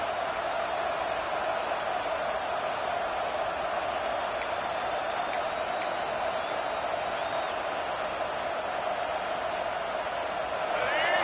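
Steady roar of a college football stadium crowd as the home defence pins the opponents deep in their own end, a dense, loud wash of cheering that runs throughout and swells slightly near the end.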